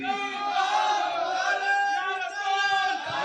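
A crowd at a religious gathering chants a slogan in unison in response to a call, a loud sustained collective shout of massed voices lasting about three seconds.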